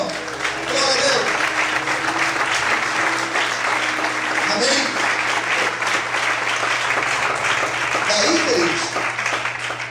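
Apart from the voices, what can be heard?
congregation applauding in church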